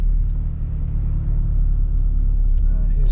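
Steady low engine rumble from a car cruising along English town roads, a continuous close hum with mild swells in revs and no talk over it.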